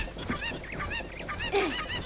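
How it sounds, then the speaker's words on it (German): Cucco chickens in The Legend of Zelda: Ocarina of Time squawk and honk repeatedly in a busy, overlapping run of loud, close game sound effects. "dann werfen wir diese Hühner rüber"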